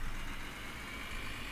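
A car engine in the driving game My Summer Car runs with a steady, loud, unbroken drone throughout the brief moment.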